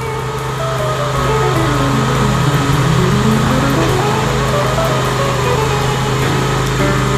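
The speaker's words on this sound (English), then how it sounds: "Now we're mixing all that 55 gallons of mix in here." A rotary mixing machine churning a batch of trail surfacing mix on an ADA riverwalk site, a loud continuous engine drone with warbling, shifting tones from the mixing drum throughout, no speech.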